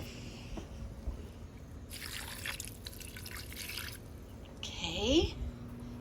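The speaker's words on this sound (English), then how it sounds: "now I'm gonna add a little bit of filtered water" Filtered water squirted from a small squeeze bottle into a pan while baking salmon: a short hiss of spray, then a faint trickle and gurgle, fairly close and quiet, with soft kitchen background.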